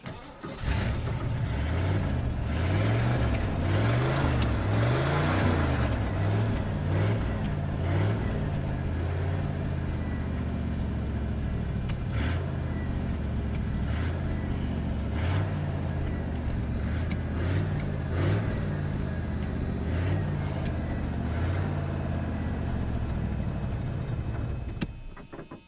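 A 1985 Ford Bronco snow plow engine cranks and catches, then runs rough and uneven with surging revs, a loud close mechanical rumble that stops abruptly at the end.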